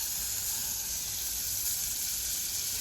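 A spoonful of butter sizzles in a hot kadai, a steady bright hiss and crackle of frying that holds constant and fairly close throughout.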